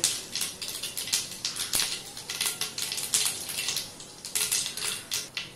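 Mustard seeds crackle and splutter in hot oil, a dense run of quick sharp pops with a faint frying hiss beneath, fairly close, no voices.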